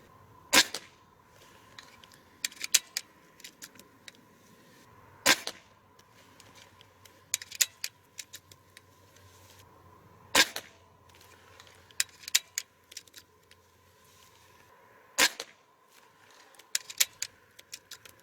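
A suppressed Stoeger XM1 S4 .22 PCP air rifle fires four sharp, quiet cracks several seconds apart, each followed by faint mechanical clicks and rattles, with a low steady hum in the background.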